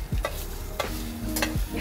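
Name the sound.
egg bread being cooked, stirred and fried in a pan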